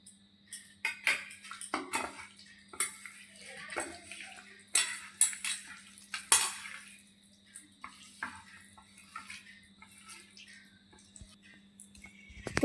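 Chicken pieces being mixed by hand with cornflour in a bowl for crispy pakoras, with soft wet squelching and scattered clinks and knocks against the dish, fairly quiet and irregular, no talk.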